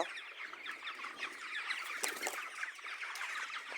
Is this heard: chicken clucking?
yes